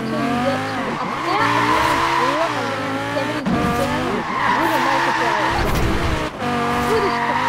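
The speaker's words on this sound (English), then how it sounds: "You want to drift up and along this until you get to about" Tires skid and squeal continuously as a 2013 BMW M6 Coupe Forza Edition drifts along the Greendale airstrip in Forza Horizon 4, with the engine revving loudly underneath and a brief dip in the squeal near the end.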